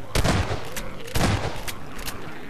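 Two loud shotgun blasts in Half-Life 2, each a sharp, close boom about a second apart, with a few lighter thuds and clatter between them.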